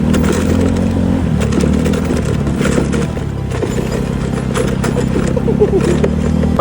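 Small motorcycle bumping over a rough, rocky road on the way to a mine, engine droning steadily throughout with rattling and scraping from the stones, close and loud.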